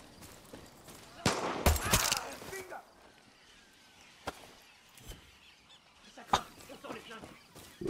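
Gunfire in the video game Far Cry 6, heard as a loud burst of shots followed by scattered single cracks, over heavy game ambience with someone talking at times.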